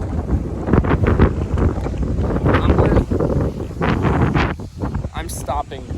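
Strong gusting wind buffets the microphone while longboarding outdoors, a loud continuous roar with rushing surges throughout, and a voice speaks briefly over it.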